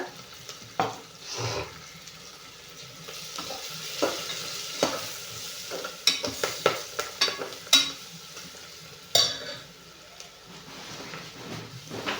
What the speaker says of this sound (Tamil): ஒரு 2 வரமிளகா மட்டும் போட்டுக்கலாம்